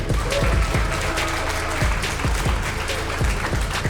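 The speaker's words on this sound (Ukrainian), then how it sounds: "Давайте привітаємо його оплесками." Steady applause from a crowd at a boxing event, dense clapping throughout with a few louder individual claps standing out, over background music.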